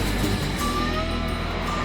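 An Isuzu 4WD powers up a sandy beach obstacle, its engine droning loud and steady throughout this short stretch.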